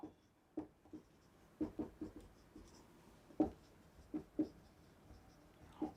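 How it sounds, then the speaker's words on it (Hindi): Pen or chalk writing out notes during an electrical engineering lecture: a series of short, sharp scratching strokes in irregular bursts, close and fairly quiet against a hushed room. "सो मैं यहां पहला पॉइंट लिखता हूं"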